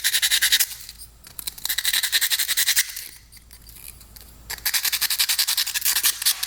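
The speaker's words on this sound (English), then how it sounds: "We're gonna take some fine sandpaper, just go along the edge here." Fine sandpaper rubbed by hand along the edge of a cheap quad piston to clear burrs, rapid raspy back-and-forth strokes in bursts separated by short pauses, close and loud.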